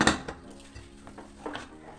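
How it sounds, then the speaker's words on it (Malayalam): A metal pressure cooker lid is handled and closed in a home kitchen, producing a sharp clank at the start followed by softer metallic knocks and scrapes. "ഞാൻ കുക്കർ അടച്ചക്കാൻ പോവുകയാണ്"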